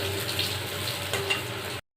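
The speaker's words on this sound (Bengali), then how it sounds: "এবার এই সাইডটাও আমরা ভালোভাবে ভেজে তুলে নেব" Eggplant slices sizzle and crackle steadily in hot oil, a close, continuous frying hiss with no talking.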